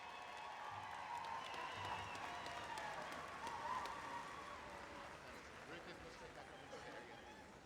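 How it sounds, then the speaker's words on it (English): A large crowd applauds at the Gathering of Nations pow wow, a soft, steady clapping wash heard from a distance beneath an announcer's voice. "Give them a round of applause"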